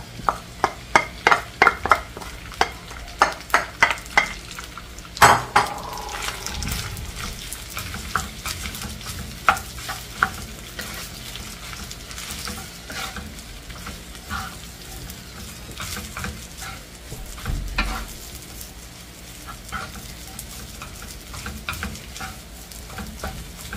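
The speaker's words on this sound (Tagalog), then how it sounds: "halo-haloin nyo lang hanggang sa maluto" Rice stir-fried with browned garlic and onion for kalkag fried rice, with rapid rhythmic spatula scrapes and clacks against the pan over a constant sizzle, then slower, softer stirring continuing close by without talk.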